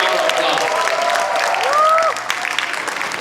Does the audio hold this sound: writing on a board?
no